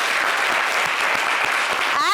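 Steady applause from an audience fills the whole stretch, dense and continuous clapping at close range.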